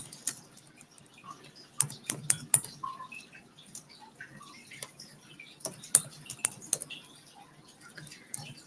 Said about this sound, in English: I'm going to type it here in the chat.